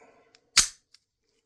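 An unloaded handgun dry-fired, a single sharp metallic snap of the trigger and hammer, close and isolated, with a couple of tiny clicks around it.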